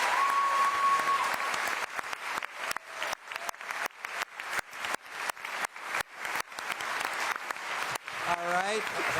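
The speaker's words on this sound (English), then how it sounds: "Let's give another round of applause for our candidates." Audience applause at a Los Angeles mayoral debate, a steady roomful of clapping that ends in a string of separate claps, with a brief tone at the start and a short voice at the close.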